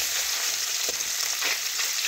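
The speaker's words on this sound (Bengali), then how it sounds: "মাছগুলো ভাজা হতে থাকুক" Freshly salted pona fish, coated with turmeric, fry in hot oil with a loud, dense, continuous sizzle close by, broken by a couple of faint stirring clinks, with no speech.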